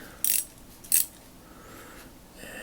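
Two brief, sharp metallic clicks about half a second apart from a vintage Craftsman 1/4-inch drive quick release ratchet as its button is pressed and a socket is held, then a quieter tail of faint handling noise.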